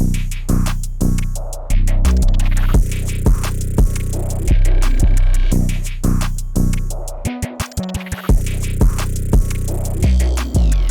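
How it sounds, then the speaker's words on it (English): A punchy electronic drum beat with heavy kicks, snappy hits and stuttering gated bursts, looping steadily with no voices. "this is what the drums sound like all together"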